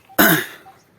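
A single short, harsh cough from an adult with a cold, sharp at onset and fading within about half a second, close to the microphone in a quiet setting.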